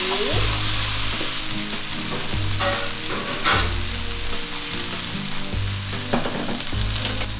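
Mixed vegetables with a splash of warm water are stirred in a pan. A loud close sizzle runs throughout, broken by repeated scraping strokes of a utensil at a steady rhythm, with no talk.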